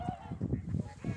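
Wintering geese at Junam Reservoir honk in a rapid series of overlapping calls, fairly close, with a flock clamoring together.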